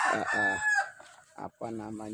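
A rooster crows loudly in a simple village chicken coop, one long drawn-out call followed by a second crow after a brief pause, with chickens clucking nearby.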